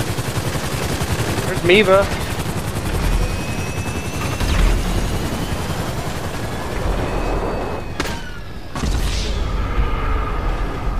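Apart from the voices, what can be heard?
gunfire during aircraft fight in video game GTA Online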